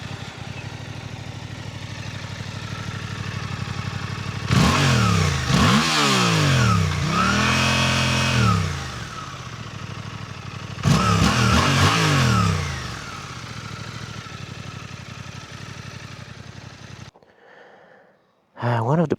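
Suzuki GSX 8T motorcycle engine revving up hard in two loud bursts, pitch climbing and falling with each throttle blip, settling to a steady idle between and after, cutting off near the end.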